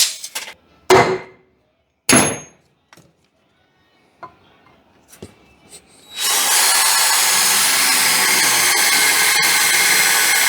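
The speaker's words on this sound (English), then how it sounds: "It won't even drill 2 holes." A few sharp knocks and clatters, then a power drill starts up and whirs steadily and loudly for several seconds, close by.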